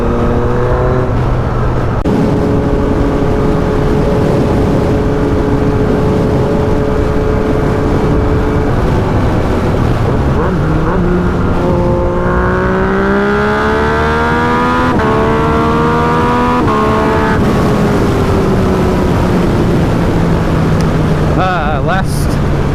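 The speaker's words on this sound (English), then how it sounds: "we are heading off on our last ride on the FZ-09 to the dealership" A Yamaha FZ-09 motorcycle rides steadily, its engine note holding, then climbing in pitch as it accelerates through the gears, with wind noise throughout and a voice talking over it.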